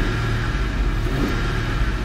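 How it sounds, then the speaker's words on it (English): A Lincoln Town Car 70-inch stretch limousine with 138,000 miles idles steadily just after startup, a low, even engine rumble that stays quiet and constant throughout. "take the key, and we're gonna go ahead and slide it into the ignition and start the car"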